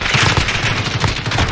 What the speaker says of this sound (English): I'm getting sniped.